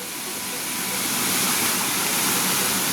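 A waterfall in Calauag, Quezon, Philippines roars in a constant, broad rushing wash of falling water, loud and close, with no other sounds standing out.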